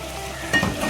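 Chicken and zucchini (turai) curry with a spoonful of yogurt frying on medium-low heat, a steady soft sizzle with a brief louder stir near the end, no talking.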